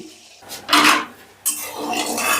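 A spoon stirs salt into hot oil in a pan for aloo paneer rice, giving loud, close scraping and rubbing swishes in two bursts over a steady sizzling background, with no talk.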